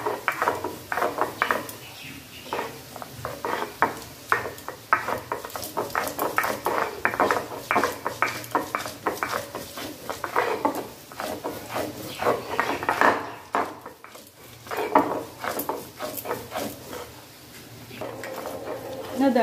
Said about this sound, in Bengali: জাস্ট অল্প পরিমাণ জিরে দিচ্ছি, আর এই আদার টুকরোগুলো একসঙ্গে পিষবো